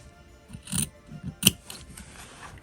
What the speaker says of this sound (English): so go and cut the corners like this